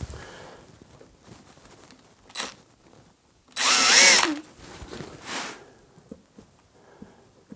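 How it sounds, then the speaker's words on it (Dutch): A power drill bores handle holes through IKEA drawer fronts with a drilling jig: one loud, sustained whirring burst of about half a second, with shorter, quieter drill spurts before and after. "Ik ga eventjes de handvaten boren."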